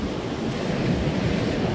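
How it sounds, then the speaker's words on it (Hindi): Ocean waves washing onto the seashore, heard as a steady, fairly loud broadband surf wash with wind noise on the microphone and no talking. "दोनों बाप बेटे समंदर किनारे पे आ गए हैं।"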